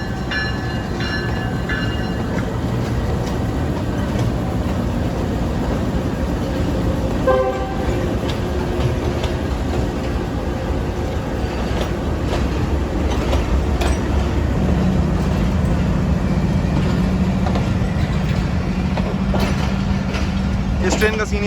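Islamabad Express train hauled by a GU20 American locomotive arriving at a station, with a steady rumble of rolling stock, a brief horn toot, and people talking nearby throughout.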